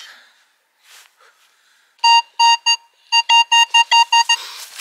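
A metal detector sounds a run of short, loud, evenly spaced electronic beeps at close range during a treasure hunt, with no one speaking over them.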